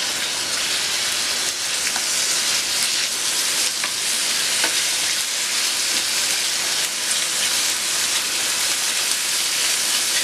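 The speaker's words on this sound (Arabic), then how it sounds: "هيك سمعين صوت الكشمش بدا يتحمس" Raisins sizzling in hot oil in a pan for Iraqi fish and rice, a steady close crackling hiss with fine popping throughout, no voices.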